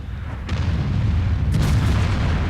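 Tank cannon fire and explosions in the World of Tanks video game, a dense low rumbling roar with two heavy booming blasts about a second apart.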